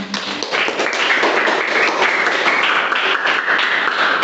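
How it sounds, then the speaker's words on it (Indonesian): Applause from an audience after a spoken presentation, a steady dense clapping that holds at even loudness throughout with no pauses, close and bright. "Wah, mantap tepuk tangannya ya"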